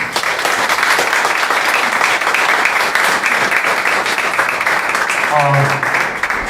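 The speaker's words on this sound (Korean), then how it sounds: "원래 예배 때는 박수를 안 치지 않습니까?" Applause from a large crowd at a church press conference for a Korean united worship service, a dense steady clatter of clapping that runs the whole stretch with voices mixed in.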